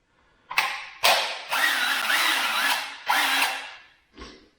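Craftsman V20 cordless impact driver, a brushed model, run in several bursts of whirring motor and rapid hammering, close and loud, with short pauses between triggers and a final brief spin.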